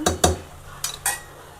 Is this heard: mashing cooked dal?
yes